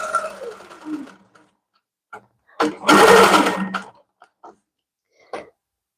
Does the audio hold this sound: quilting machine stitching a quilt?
yes